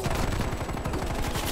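Rapid automatic gunfire in Call of Duty Black Ops Cold War, a loud continuous burst of shots rattling close by with no pauses.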